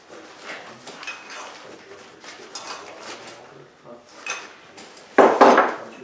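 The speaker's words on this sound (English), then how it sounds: "this folds open, and the gas can sits on it to stabilize the stove." A folding metal camping stove is opened and handled, giving scattered light clanks and rustles, then a sharper, louder metallic clatter near the end.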